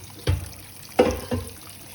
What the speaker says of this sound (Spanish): Ahora vamos a sacarle toda el agua en la que cocinamos el maíz.